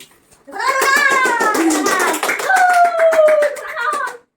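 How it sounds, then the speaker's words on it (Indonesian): Children in a classroom clap their hands in quick, rhythmic bursts while singing or chanting together in high voices. "Tepuk tangan, tepuk tangan."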